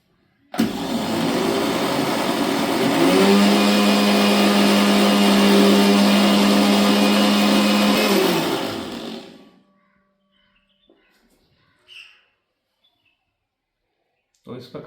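Mixer grinder whirring loudly and steadily for about eight seconds while it grinds dried ingredients for herbal gulal, then spinning down, followed by faint clicks and handling.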